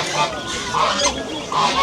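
Geese at a poultry market honking in three loud, close bursts, spaced roughly evenly apart.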